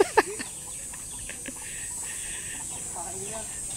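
Farm chickens cluck and squawk in short, sharp calls while being fed rice, with people chatting nearby in a low, steady outdoor hum.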